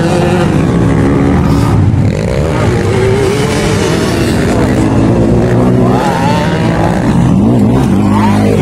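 An 85cc racing motorcycle ridden by a young girl against older riders screams at high revs nearby, loud and continuous with shifting pitch as the engine climbs and eases, mixed with other race engines and crowd noise.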